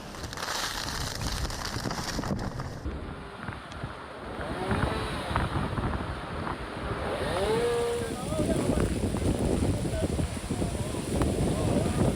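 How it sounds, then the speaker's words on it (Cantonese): Strong wind roars steadily and buffets the microphone on a Hong Kong street in severe weather, with a low rushing rumble throughout and a faint high whine in the background. "南區嘅海怡半島內街風力強勁，樹木被吹到左搖右擺"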